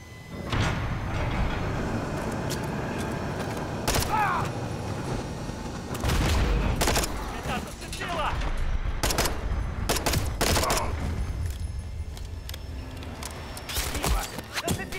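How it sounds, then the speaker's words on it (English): A light machine gun fires in long, rapid bursts in Call of Duty Modern Warfare 3, loud and close, broken by brief pauses, with booming impacts and a brief cry among the battle noise. "This is why they give me a light machine gun here."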